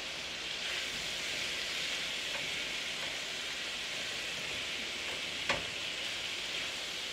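Food sizzling as it cooks in a pan with garlic, a steady bright hiss of frying that continues evenly throughout, with a faint utensil tap near the end.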